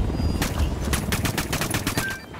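Mounted helicopter machine gun in Ghost Recon Wildlands firing a rapid, steady stream of shots over a constant rotor rumble, loud and close.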